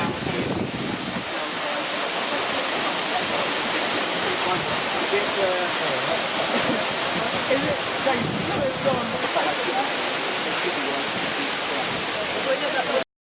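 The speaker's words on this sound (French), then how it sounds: "voici la cascade Olavida" Olavida waterfall in Ecuador roars in a steady, dense wash of falling water that fills the whole clip, with wind buffeting the microphone and people speaking faintly beneath the torrent.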